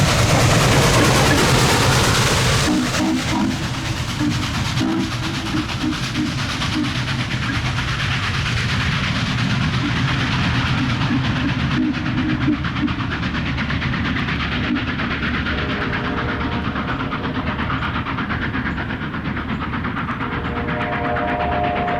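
Norfolk & Western 611 steam locomotive, running with two other locomotives, rumbles past at speed pulling its train, a loud continuous roar of wheels and rail clatter with steady tonal hums throughout.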